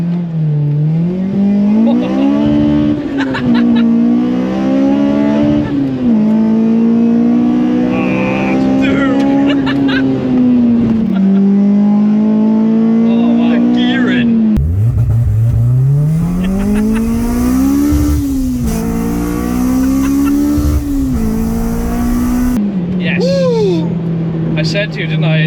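A Honda Civic EP3 track car fitted with a limited-slip differential and 5.3 final drive is driven hard from inside the cabin, its engine droning loud and revving up and down through gears, with occupants talking over it.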